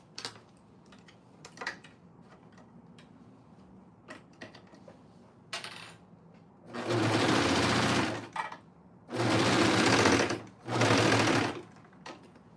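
A home sewing machine stitches through thick fabric in three sustained, loud runs of rapid needle clatter, after scattered quiet handling clicks and rustles.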